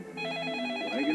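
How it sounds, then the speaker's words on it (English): A telephone rings in a short burst, a steady electronic ringing tone holding through the clip with a faint voice underneath. "Didn't you hear the phone?"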